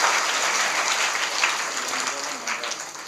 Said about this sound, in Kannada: ಜೋರಾದ ಚಪ್ಪಾಳೆಯೊಂದಿಗೆ ಆ ಪೂಜ್ಯರನ್ನು ಕೂಡ ಗೌರವಿಸೋಣ.